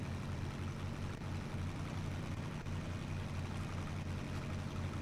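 A Ram Charger mod truck engine in the SnowRunner video game idles as a steady, deep, even rumble that holds constant throughout, with no voices.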